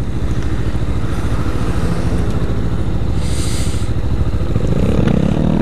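Honda Grom motorcycles ride in traffic, their small engines putting out a continuous loud rumble with a brief higher burst of revving or passing noise midway, and no speech.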